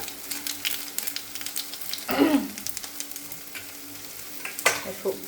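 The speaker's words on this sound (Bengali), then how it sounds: "আমি একটু কালো জিরে শুকনো লঙ্কাই ফোড়ছি" Nigella seeds and dried red chilies crackle in hot oil as a tempering for vegetable dal in a home kitchen, a steady close sizzle with stirring scrapes and two louder spitting bursts.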